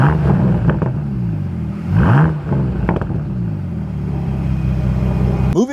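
A Bentley Continental GTC Speed by Mulliner engine idles with a deep, steady rumble and is revved a few times, each blip rising sharply and then falling back. It sounds loud and close, with no voices.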